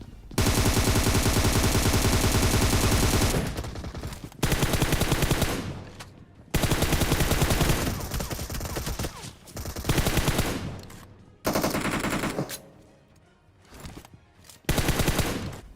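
Long, loud bursts of M4 rifle automatic fire in the BGMI battle game, each sustained volley cutting off abruptly with brief pauses between.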